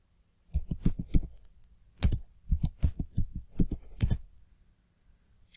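A computer keyboard clicks as a passphrase is typed, with bursts of close, crisp keystrokes separated by brief pauses, followed by quiet.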